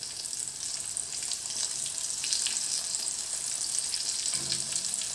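Sardines fry in hot oil over a medium flame, giving a steady, dense crackling sizzle that runs unbroken the whole time, with a brief low clunk near the end.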